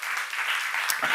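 A church congregation at a seminar gives a brief burst of steady, close applause lasting about a second.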